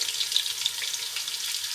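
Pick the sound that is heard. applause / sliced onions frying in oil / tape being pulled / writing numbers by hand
sliced onions frying in oil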